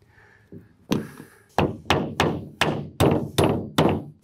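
Hammer blows drive nails into wood while framing a shed wall, a steady series of eight or so sharp thunks spaced about a third of a second apart, close and loud.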